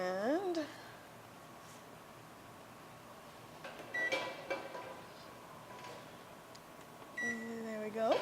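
Electronic kitchen oven beeps as it is set to 350, short tonal chirps at the start, in the middle and near the end, over quiet room background.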